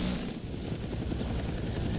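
A helicopter in a video game gives a continuous, close, loud rotor drone with a steady, thumping low rumble.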